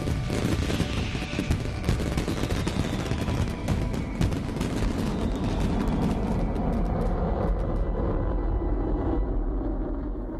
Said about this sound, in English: The Italians turned them back into fireworks.